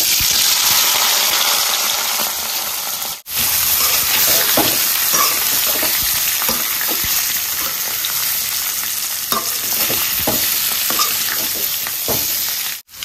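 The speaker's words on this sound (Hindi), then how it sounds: "तो मैं पहले आलू डाल रही हूँ" Potatoes frying in a pan on a home stove, a steady loud sizzle lasting throughout with occasional stirring clatter and brief dips, no talking.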